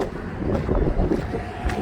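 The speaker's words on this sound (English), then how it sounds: "The wind decided to come up just as I did this, and I don't have a deal to adapt the mic" Wind gusts buffet an outdoor microphone beside a Dodge Ram-based Coachman Nova Class B RV, producing a continuous low, rumbling roar that swells and eases in steady waves with no other clear sounds.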